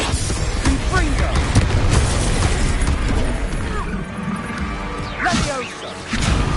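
A Confringo blasting spell goes off in a Harry Potter video game, a loud booming crash with whooshing debris amid a noisy duel, over sustained chaotic action sounds and raised voices.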